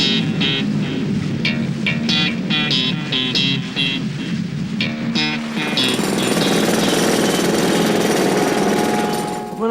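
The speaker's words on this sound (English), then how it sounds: "Road drills." Road drills (jackhammers) pound in rapid, repeated bursts, then give way to a denser continuous mechanical roar, loud and close throughout, with no speech.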